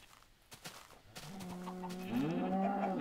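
Cows low in the Minecraft video game, a couple of long, rising moos building near the end over a faint background with a few soft clicks, no speech.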